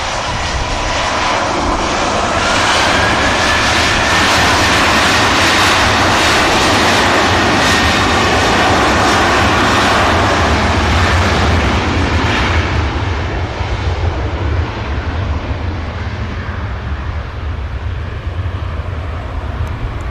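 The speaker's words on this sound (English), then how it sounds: "And then going to increase that thrust now." A jet airliner at Manchester Airport spools up to takeoff thrust, a loud close roar that swells and stays heavy before easing slightly toward the end.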